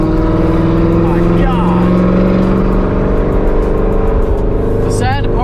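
A loud Lamborghini engine droning and revving continuously up close from inside the cabin, a deep sustained growl with rising pitch, while people talk over it.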